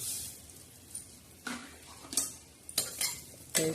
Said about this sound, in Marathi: छान असं आपण हलवून घेणार आहोत